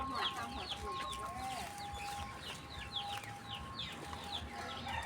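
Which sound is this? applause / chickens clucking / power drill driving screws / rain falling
chickens clucking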